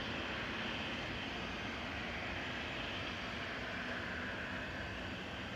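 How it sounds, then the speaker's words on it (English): EasyJet airliner jet engines starting up at Manchester Airport, a steady, broad roar holding at an even level throughout with no voices. "The loitering EasyJet's engines are just cranked into life. You just heard them splutter"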